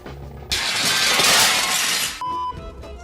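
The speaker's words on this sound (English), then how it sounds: "Nick dropping his glass through Rory's table wasn't planned, but was kept in the movie" A glass dropped through a glass table in a movie scene, heard as a sudden loud shatter that sprays and crashes for nearly two seconds before stopping, followed by a brief faint tone.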